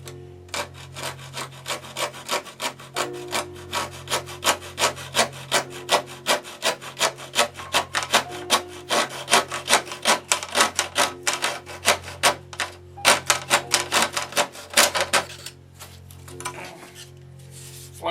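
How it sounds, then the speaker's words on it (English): A stout X-Acto jab saw cuts through wood in quick, rhythmic strokes, a close, dry rasping that runs steadily with a few short pauses. "I have a more stout jab saw. This is an X-Acto brand saw."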